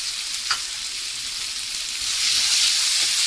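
Schezwan sauce sizzles and fries in a hot pan while being stirred, a steady loud crackling hiss with a brief scrape of the spatula, growing slightly louder toward the end, with no talking.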